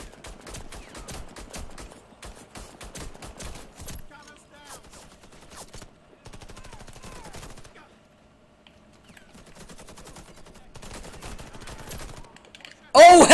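Video game gunfire in Warface on Xbox, with rapid bursts and scattered single shots at moderate loudness, broken by quieter stretches and a sudden loud hit at the end.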